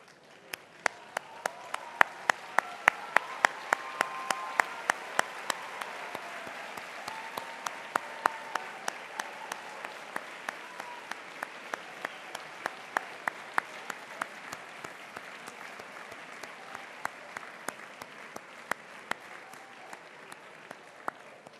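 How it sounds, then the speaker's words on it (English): An audience at a school graduation ceremony gives a long, steady round of applause for the graduates' parents, a dense wash of many hands clapping with sharp individual claps standing out, sustained at an even level throughout. "give them a huge round of applause"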